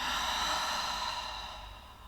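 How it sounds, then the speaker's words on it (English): A single long exhale through the mouth during a stretching routine, a soft, breathy rush of air that slowly fades, quiet and alone. "Exhale through the mouth."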